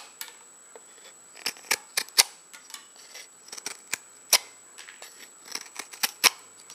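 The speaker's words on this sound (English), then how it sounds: "This thing is just ripping through this block of wood, no problem." Leatherman Wave knife blade shaving a block of wood, giving sharp scraping cuts in irregular bursts, close and fairly loud, with no talking.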